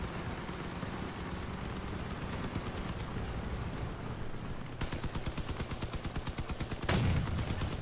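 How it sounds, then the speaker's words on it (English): Vehicle cannon fire in Crossout comes over a rumbling engine and distant battle noise: a steady run of rhythmic pulsing shots kicks in partway through, followed near the end by one heavier, booming blast. "I fired a cannon and the bullet seemed to, like, fall to the ground."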